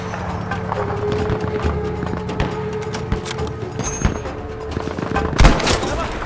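Single-shot rifle fire crackles in a Battlefield V battle, several sharp reports spread irregularly among clattering footsteps and background combat noise, with one louder blast near the end.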